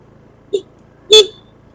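A short car horn toot, then a second louder and longer honk a half-second later, close by over quiet road ambience on a village road on Taliabu Island, North Maluku, Indonesia.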